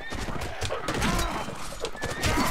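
A horse neighs amid clattering hooves and battle clashes in the medieval combat game Mount & Blade: Warband, loud and busy within the mix, with voices faintly present.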